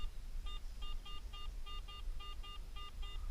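Garrett AT Pro metal detector signal in a forest, a run of about eleven short, even, high electronic beeps at a steady rhythm over faint outdoor background, no one talking.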